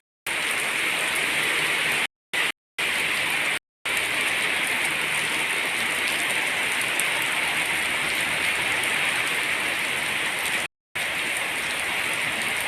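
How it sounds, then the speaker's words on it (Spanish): Steady, dense rain falling on a surface in Axtla de Terrazas, San Luis Potosí, Mexico, a continuous hiss with brief drops to silence now and then, no voices. "Y llovía, llovía."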